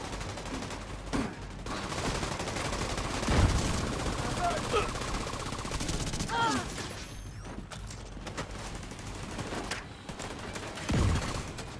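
Gunfire in a cutscene from The Division 2, with scattered shots and thumping impacts popping over a constant rumbling battle din, while voices speak at moments.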